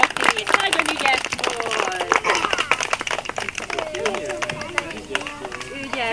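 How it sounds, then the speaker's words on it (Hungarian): An audience claps for a young girl named Doroti at a children's event, with brisk, uneven applause throughout, a murmur of voices mixed in and an adult speaking over the clapping. "Tapsoljuk meg a Doroti"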